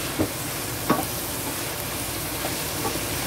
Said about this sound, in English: And I just let that saute.